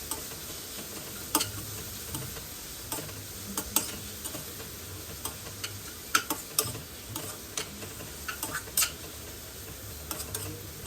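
Onion sautéing with a pinch of salt in a pan: a soft, steady sizzle under scattered stirring clicks and scrapes at an irregular pace, close and fairly quiet.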